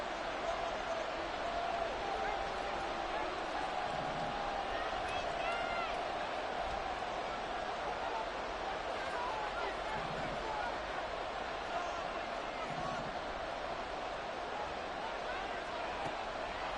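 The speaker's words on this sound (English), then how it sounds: "This crowd turning up the decibel level." Stadium crowd at a Panthers football game on third and long, a steady, wide roar of noise that holds throughout while a commentator talks over it.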